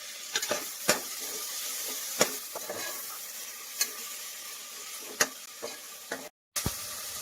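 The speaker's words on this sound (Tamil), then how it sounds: "தக்காளி வெங்காயம் வணங்குறதுக்கு கொஞ்சமா உப்பு போட்டுக்கலாங்க" Tomatoes and onions sauté in a pan with a steady close sizzle, punctuated by sharp scraping stirs from a spoon or spatula, with one short dropout near the end.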